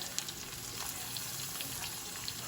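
Onions frying in a pan for an Asian-style home recipe, a steady broadband sizzle with faint crackles and pops, close and even throughout, with no talking.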